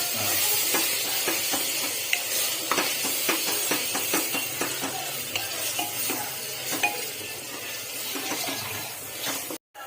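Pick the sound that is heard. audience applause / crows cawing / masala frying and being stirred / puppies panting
masala frying and being stirred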